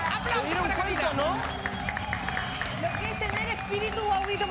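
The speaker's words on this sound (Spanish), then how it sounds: "¡Aplauso para Marcial! ¡Aplauso para Joaquín! ¡Aplauso para Camila!" Applause and cheering from a crowd greet Marcial, Joaquín and Camila as they arrive at a hotel. The steady clapping and hubbub run the whole time beneath close, excited voices.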